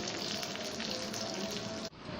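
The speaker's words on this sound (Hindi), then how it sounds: "अब हम इस पर तड़का देंगे।" Loud, dense crackling sizzle of hot oil tempering cumin and curry leaves, steady and close, cutting off abruptly near the end before resuming briefly.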